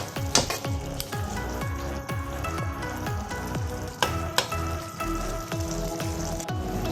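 Peas and potatoes fry in a kadhai for mixed vegetable sabzi, with steady sizzling broken by repeated stirring scrapes and clatters, close and loud with no one talking.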